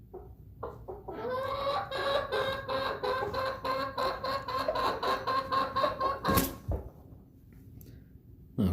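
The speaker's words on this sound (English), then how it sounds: "we got a few little clucks going on from Stormy there" Backyard chickens cluck in a steady run of close, rhythmic calls, one bird talking almost continuously, with a short sharp knock near the end.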